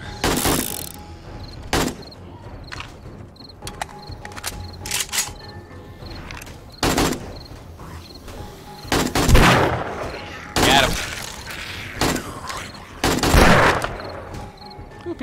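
Gunfire during a horde attack in the video game 7 Days to Die, loud bursts of shots and rapid volleys coming in irregular clusters over the game's ambient noise, with occasional sharp single cracks.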